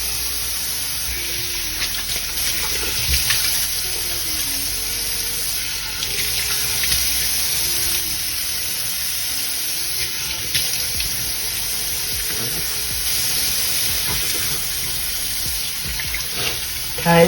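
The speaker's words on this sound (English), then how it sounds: "I go ahead and I rinse with some warm water" Warm water runs steadily from a bathroom tap into a sink while a face is rinsed, a continuous close hiss and splash with no talking.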